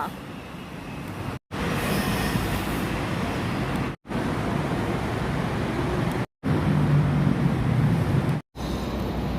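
A Yellow Line train rumbles steadily as it arrives at a platform, a loud continuous low roar of wheels and motors with brief drops in between, no talking.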